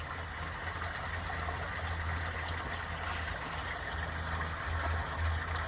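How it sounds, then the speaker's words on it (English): Small stream of water pouring and trickling under a trail bridge after recent rains, a steady continuous rush with a low rumble, fairly close and alone, without talk. "You can see the water pouring there and listen to it."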